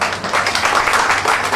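A seminar audience of students breaks into a short, dense burst of clapping that lasts just over a second.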